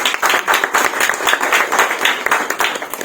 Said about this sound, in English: So I think that deserves a big round of applause